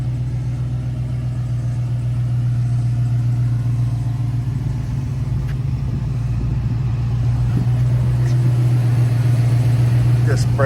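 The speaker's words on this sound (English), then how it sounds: "Motor runs very strong." A-code V8 of a 1966 Ford Mustang running, a strong low droning rumble with steady pulsing throb, close and continuous throughout with slight rise toward the end.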